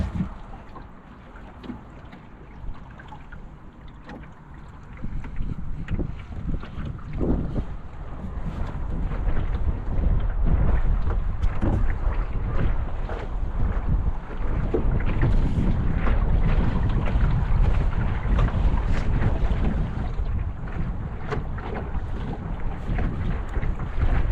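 A homemade sail on a dollar store canoe catches the wind out on the water, with steady loud wind buffeting the microphone and the low rush of the moving hull, growing stronger after a few seconds. No talk.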